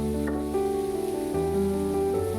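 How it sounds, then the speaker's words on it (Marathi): A pan sizzles steadily as ground masala is sautéed with bitter gourd, a continuous frying hiss with faint stirring and a low hum underneath. "ते मसाला तरी पण थोडंसं अजून परतून घेऊया दोन तीन मिनटासाठी"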